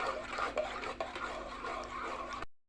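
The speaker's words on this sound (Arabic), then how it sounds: "ابتدي بقى اقلب كده وافضي، اقلب وافضي." Homemade liquid soap being stirred and poured in a pot, giving a steady scraping, swishing rub with a couple of light knocks, close and fairly quiet, ending abruptly.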